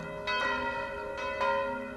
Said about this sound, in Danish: så ringer vi med klokkerne igen, mens at kisten bliver båret ud til selve graven